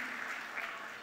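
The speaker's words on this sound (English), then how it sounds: "Huge round of applause for him once again." An audience at an awards ceremony applauds, a brief wash of steady clapping from many hands, moderately loud and diffuse, with faint voices mixed in.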